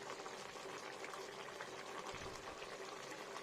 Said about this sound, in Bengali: এবার মিনিট দুই তিন দুই আড়াই মিনিট একটু ফুটবে ফ্রেন্ডস তাহলেই হয়ে যাবে শুক্তোটা